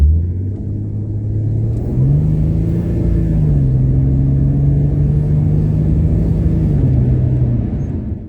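A Ford EF Falcon exhaust idling close by, a loud, steady, low droning hum with a didgeridoo-like resonance and a slight shift in pitch partway through, with no other sounds over it.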